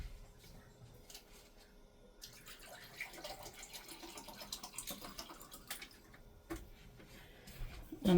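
Water pouring into a pot of Mexican rice cooking with fresh garlic, a steady close splashing trickle running for several seconds, quiet and unbroken, with no talk over it.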